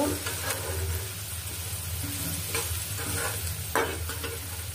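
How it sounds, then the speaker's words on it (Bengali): Turmeric powder stirred into frying food in a pan for goat brain fry, a steady close sizzle with scraping spoon strokes and brief louder stirring bursts. "এখন দিয়ে দিব পরিমাণ মতো হলুদের গুঁড়া। এই যে দিয়ে দিলাম পরিমাণ মতো হলুদের গুঁড়া। এটাকে একটু মিশিয়ে নেব।"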